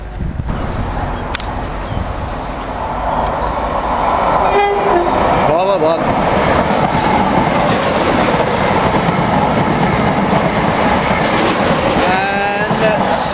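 A British Rail Class 483 unit at Stansted Mountfitchet station passes close by, a loud steady rolling rumble with clattering wheels and brief squeals for most of the clip, rising in intensity mid-way.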